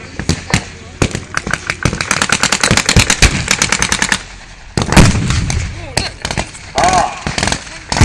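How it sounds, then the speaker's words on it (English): Bursts of gunfire ring out at a Bovington tank display staging a Panzer III battle: loud rapid machine-gun strings, then sharper single reports and rumbling, and a voice is heard partway through. "The gunner of the RTR proved successful again. With one shot, it killed the Panzer III."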